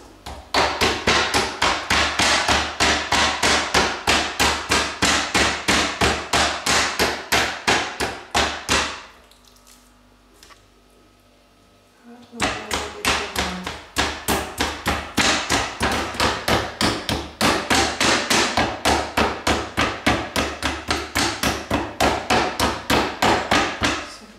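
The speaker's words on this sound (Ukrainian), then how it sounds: "філе відбиваємо" A meat mallet pounds a chicken fillet flat for chicken Kiev, with rapid, regular, loud thuds nearby, a short pause midway and then the fast pounding resumes.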